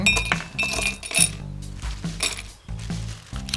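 Ice cubes clink and clatter into a glass while a fingerroot herbal drink with lime soda is prepared, a busy run of sharp bright knocks and rattles, close and continuous, with no voices.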